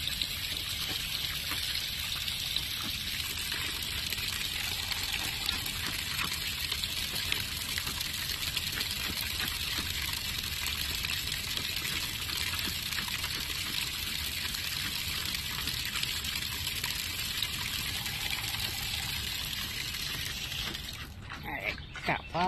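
Steady running water pours and splashes continuously near a pig, close and fairly loud, with a brief clatter near the end.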